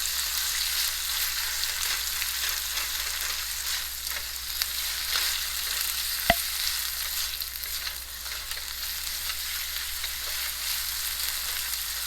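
Onions fry in a pan for South Indian coconut rice, giving a continuous, even sizzle up close with one sharp tap midway.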